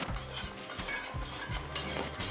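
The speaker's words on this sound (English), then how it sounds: "Keep it stirring." A spoon stirs no-bake cookie mixture in a pot on the stove, scraping and sloshing in a repeated back-and-forth rhythm with a faint bubbling sizzle underneath, close and steady.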